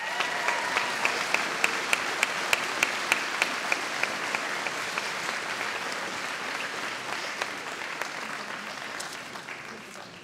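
An audience at a school graduation ceremony applauds a sports award winner, with sustained, even clapping from a large crowd and a few sharper individual claps standing out near the start.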